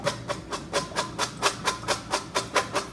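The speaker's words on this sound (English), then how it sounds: "shake them well, get all the water out." Rhythmic shaking of soaked chickpeas in a container to drain the water, about a dozen evenly spaced rattling bursts, close and steady, with no voices.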